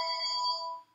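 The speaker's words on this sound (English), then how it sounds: "If you hear the phone ring in the background," A home telephone rings in the background, giving one clear sustained electronic ring tone that holds steady for most of a second, then cuts off.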